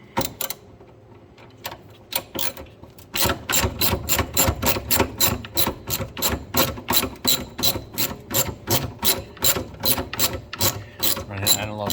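A hand ratchet turning a 10 mm socket while removing the coolant overflow tank on a 2001 Chevrolet Silverado, close and loud: a few slow clicks, then a long steady run of rapid rhythmic ratcheting clicks.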